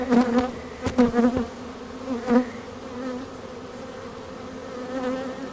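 Honey bees swarming over a hive frame from the bottom box, a close, buzzing drone with individual bees whining past loudly in the first few seconds, then a steadier hum.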